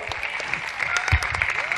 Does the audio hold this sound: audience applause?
yes